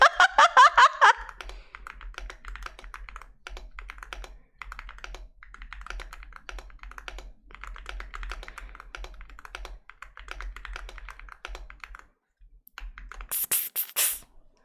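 Typing on a computer keyboard, rapid light key taps in uneven bursts, fairly close, after a brief sharp spray at the start and before another spray-like hiss near the end.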